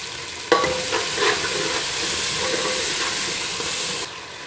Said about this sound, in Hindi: और थोड़ा सा मसाला भूनूंगी।